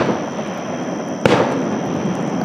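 Fireworks at a midsummer beach party on Quaker Lake: a single sharp distant boom bursts out at the midpoint over a steady background hiss, then fades into a brief rumbling tail.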